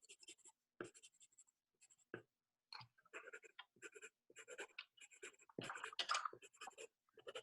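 Quiet, close scratchy strokes of a colored pencil on paper, coming in short irregular bursts with brief pauses between them.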